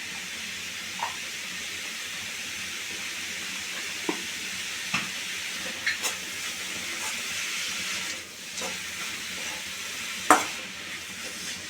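Beetroot rice is stirred in a hot pan, a continuous sizzle and hiss with occasional soft scrapes and taps of the spoon against the pan, close and steady with no talking.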